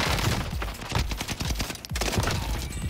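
A Cooper gun fires rapid, sustained automatic bursts in the Warzone video game, close and loud, with one brief gap before the firing resumes.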